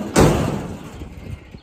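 A crooked steel door on a livestock trailer swings shut with one loud metallic slam and leaves a rattling, ringing decay that fades over a second.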